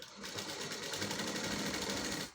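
A sewing machine runs continuously as it stitches lining onto the back piece of a blouse, a quiet, even, rapid whir close by with no voices.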